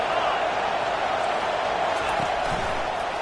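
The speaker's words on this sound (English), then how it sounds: "Decibels rising as the crowd gets behind this defense on 3rd down" Steady, dense stadium crowd roar builds on 3rd down in a football video game, a continuous wash of many voices with no distinct cheers or breaks.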